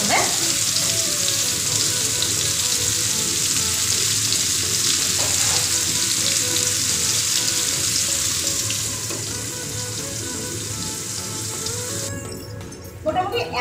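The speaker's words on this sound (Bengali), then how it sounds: "এটাকে আমি একটু ঢাকা দিব, দিয়ে এটাকে ভাজা ভাজা মতো করে দিব প্রথমে।" Ash gourd and bottle gourd fry in a pan with a steady, loud sizzle and hiss throughout, easing slightly and then shifting near the end as the pan is handled.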